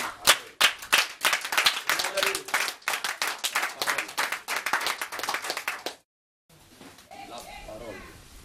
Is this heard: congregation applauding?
yes